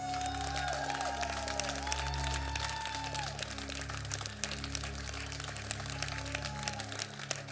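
A church congregation claps together during an apostolic ordination service, a dense, steady wash of applause that fills the room for several seconds, with sustained tones underneath.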